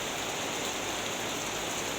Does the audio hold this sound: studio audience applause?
no